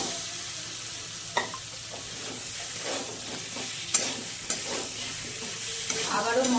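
Fried potato and pointed gourd pieces get stirred into Gobindobhog rice and spices in a pan, giving a low steady sizzle with scattered sharp clinks and scraping strokes of the spoon, no voices.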